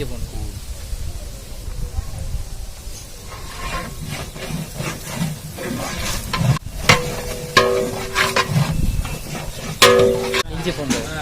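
Coriander and garlic sautéing in a large pot for a 25 kg restaurant-style chicken biryani, with a steady sizzling hiss under clattering stirring and scraping, plus a few sharper metallic knocks; voices talk faintly in the background.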